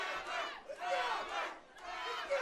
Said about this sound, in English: That London crowd starting to chant Andrew